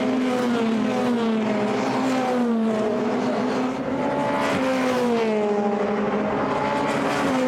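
Formula Renault 2.0 race cars scream around the Monza circuit toward the Parabolica, their engines holding a loud, sustained high whine that shifts in pitch as several cars pass at a distance.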